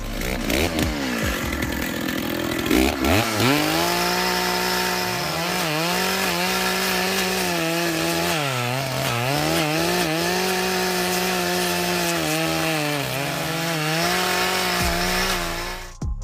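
A roughly 6 kg chainsaw with automatic chain lubrication cuts through wood, its loud engine whine rising and falling steadily as it bites, close and continuous for most of the stretch with no talking.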